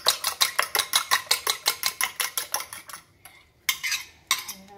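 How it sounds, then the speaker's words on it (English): A fork or whisk beats an egg in a bowl for sugar-free oatmeal cookies in about fifteen quick, sharp, rhythmic clicks that stop and then return as a few scattered strokes, close up with no talking. "So now I'm going to add the egg to it. I beat it a little bit."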